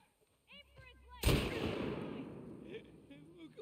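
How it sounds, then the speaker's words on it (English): A single loud gunshot in The Last of Us Part II, a sharp blast followed by a long rolling echo, with someone speaking excitedly just before and after it. "Is that a gun? He's got a gun!"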